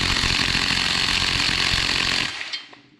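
An impact wrench with a 3/8 socket adapter loosens the 14mm head bolts on a Kawasaki FX691V small engine, giving a loud, steady buzzing burst for about two seconds that then cuts off abruptly.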